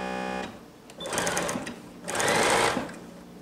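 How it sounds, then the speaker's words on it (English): A sewing machine stitches a 5/8-inch pants seam at stitch length 3 in two steady bursts, each about a second long, with a short pause between them. "Let's sew."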